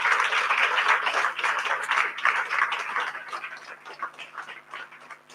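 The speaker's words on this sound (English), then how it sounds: "Could you give our panelists here a big round of applause?" An audience at a music-industry panel talk in Belfast claps for the panelists, dense crowd applause at full strength for a few seconds before gradually thinning and fading.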